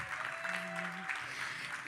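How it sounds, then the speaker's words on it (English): An audience at a business leadership event claps for the sponsors: a dense, steady wash of applause that holds evenly for about two seconds, with a voice faintly audible underneath. "Please give our sponsors a huge round of applause."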